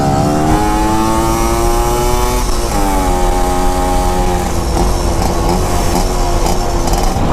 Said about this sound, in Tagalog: EDSA, napaka-traffic mo talaga